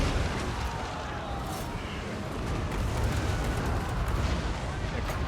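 Hell cannon artillery fires on a Warhammer 2: Total War battlefield, a continuous loud rumble of blasts and battle din, with a voice talking over it.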